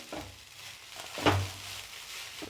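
Veg fried rice made with leftover rice and sauces, stirred in a pan over high flame. Low sizzling runs under two or three spatula scrapes, with one louder stroke near the middle, and no voices.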